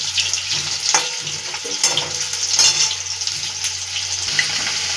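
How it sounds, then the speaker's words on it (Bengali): Potatoes frying in hot oil for egg curry, giving a continuous loud hissing sizzle with a few light knocks of a utensil. "তেল গরম হয়ে গেছে, আলুগুলোকে ভেজে নেব।"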